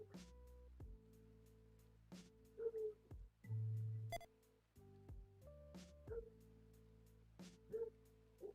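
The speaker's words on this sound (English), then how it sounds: "Is that your dog, Jig?" A dog whimpers and yips off to the side during a live stream, quiet high whines and short cries scattered over a steady low hum and background tones.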